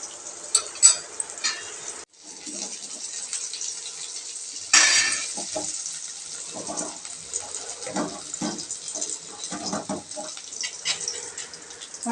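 Onion powder sautés in a hot pan with a bright, steady sizzle, broken by scraping stirs and a few clinks of a utensil against the pan.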